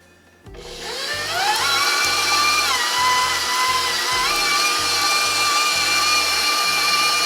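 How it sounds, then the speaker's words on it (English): An electric mixer starts abruptly and runs at a steady whirring pitch, blending cream cheese and butter for a harvest cake frosting, loud and continuous with slight speed wobbles and no talking. "I'm just gonna blend the cream cheese and the butter first"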